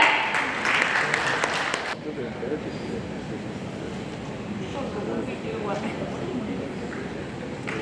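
Applause for an award recipient walking on stage at an architecture and builders' gathering in Dimapur, a crowd clapping steadily throughout, loudest in the opening seconds, then settling into a sustained mid-level patter.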